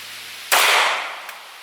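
A 9mm hollow point round is fired into a ballistic gel block: one sharp, loud crack that decays over about half a second, followed by a faint small knock.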